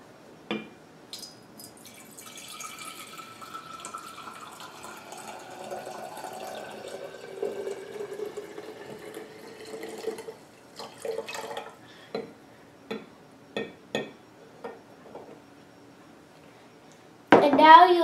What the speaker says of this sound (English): you'll be adding your vinegar